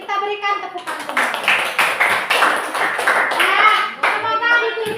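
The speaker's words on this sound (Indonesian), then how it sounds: "Kita berikan tepukan tangan." Hands clapping in a classroom as an audience applauds quiz winners, steady and fairly close for about five seconds, with children's voices mixed in.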